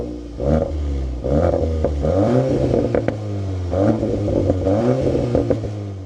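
A Cupra car's engine fires up with a sharp starter burst and a rising rev, then settles into a throaty idle with further blips of revving, close and loud with no voices.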